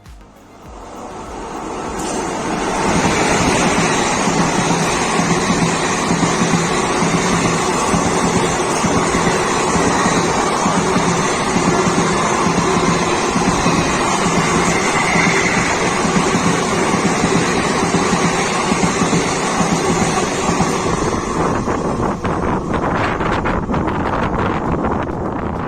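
The Andaman Express 16032 passenger train runs at speed, a loud, continuous roar of wheels and rushing wind that swells in within the first few seconds and holds steady throughout.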